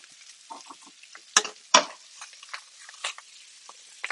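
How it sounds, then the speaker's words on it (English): Gravy stirred in a pan: sparse, close spoon scrapes and light clinks over a faint simmer, with two sharper knocks partway through and no speech. "Don't forget to give your gravy a little spin."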